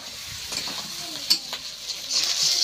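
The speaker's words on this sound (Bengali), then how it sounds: "এবার জল ঢেলে দিচ্ছি।" Water is poured into a sautéed meat curry in a home kitchen. A close, crackling sizzle comes in uneven bursts with stirring clicks, swelling into a louder hiss toward the end.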